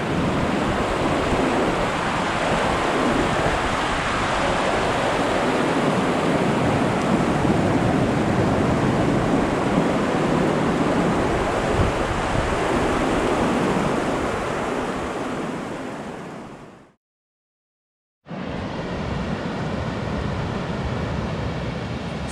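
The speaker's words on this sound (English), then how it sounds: "This is a waterfall below Golden Lake where we're camped. So that's the creek that comes out of the lake." Loud, steady roar of a waterfall on the creek flowing out of Golden Lake, a mountain lake in the Wind River Range, rushing continuously up close before cutting to silence for about a second and resuming just as loud.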